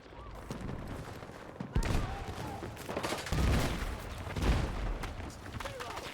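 Gunfire rings out in the video game Battlefield 6. Bursts and loud shots come over a busy battlefield din, and a player talks during the shooting.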